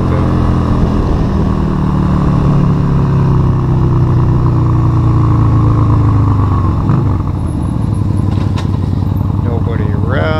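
Yamaha Virago 250 motorcycle engine revving up through the gears in a 0-60 run, a loud steady drone with rising pitch sweeps and a shift dip near the middle, with a voice speaking over it.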